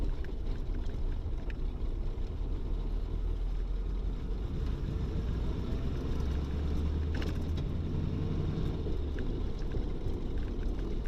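A 1934 Ford V8 Victoria pulling along in second gear at about eight miles an hour, its low, steady engine drone and road rumble continuous throughout, with some wind noise and no talking.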